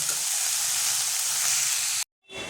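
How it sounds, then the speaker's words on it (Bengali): Mustard flowers frying in a pan with salt and turmeric give off a steady, loud bright sizzle while being stirred, which cuts out abruptly near the end before resuming. "এবার একটুখানি জল শুকানো পর্যন্ত আমি এটা নেড়ে নেব।"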